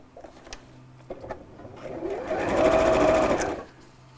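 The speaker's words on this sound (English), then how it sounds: "again we're going to sew back down here" Sewing machine stitching fabric pieces together, a short rapid mechanical whirr that swells and cuts off after a few light handling clicks, close and fairly quiet.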